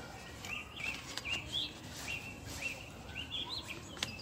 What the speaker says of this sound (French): On écoute la nature, les oiseaux, les enfants aussi.